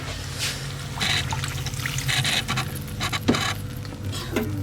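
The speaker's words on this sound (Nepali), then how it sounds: "पानी बेसी नै हाल्नुहोस्।" Water poured into a Nepali fried fish curry comes in several uneven trickling bursts, splashing close by with short gaps between pours.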